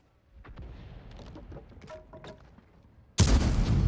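A tank cannon fires in the World of Tanks video game, one loud sudden boom near the end, preceded by quieter clanks and rumbling game sounds.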